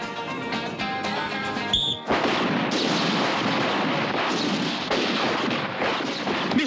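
Gunfire from a comedy cop film's shooting scene: a sharp blast followed by a dense, loud volley of rapid shots that rattle on continuously, with music fading out underneath at the start.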